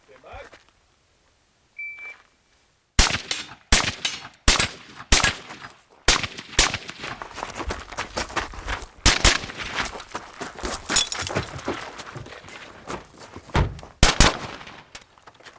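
A bullpup rifle fires a rapid string of sharp, loud shots during a timed shooting run. A brief timer beep comes first, then the shots crack in irregular bursts that keep going for several seconds.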